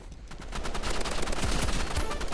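Rapid gunfire in the video game Marvel Rivals rattles in a dense, continuous stream of loud shots, with no talking over it.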